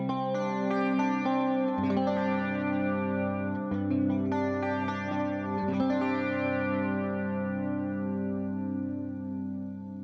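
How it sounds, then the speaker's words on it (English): Electric guitar played through the Valeton GP200's Dark Twin clean amp model, styled on a Fender Twin Reverb: sustained chords ring out with a chorus-like shimmer, a few re-struck strums, then a slow fade, no talk. "The next clean bass amp is the Dark Twin on the Fender Twin Reverb."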